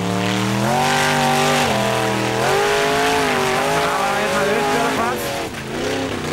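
A rally car is driven across a steep side slope at a motorsport event in Kollafjörður, its engine revving in rising and falling pitch with tires squealing, while a commentator talks over it.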